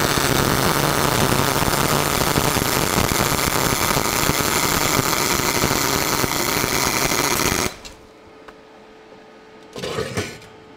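MIG welder tack welding, a loud, harsh continuous crackling buzz lasting several seconds that stops abruptly, followed by near silence and one brief short burst.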